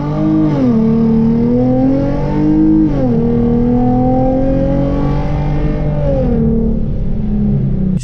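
A Hyundai Genesis Coupe pulling hard from 0 to 60 in sport mode with no launch control, engine revs climbing and dropping with each gear shift, loud and close from inside, several shifts in steady succession.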